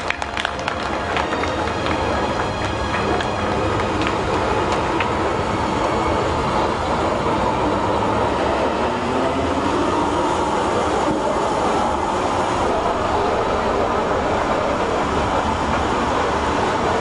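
A Berlin S-Bahn commuter train rumbles steadily throughout, a dense continuous roar of wheels and motion with faint rail squeal rising over it, no voices.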